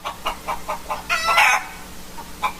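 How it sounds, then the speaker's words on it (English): Chickens cluck close by in a quick, rhythmic series of short calls, with a louder burst of squawking in the middle and the clucking carrying on afterward, and no talking over it. "I got some chickens clucking right now"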